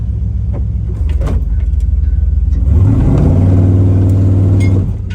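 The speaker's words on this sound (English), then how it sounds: "I think we might be able to do a burnout now" An LS-swapped Chevrolet G20 van engine idling loud and close, then revving up for an attempted burnout with a sustained rising roar before dropping off.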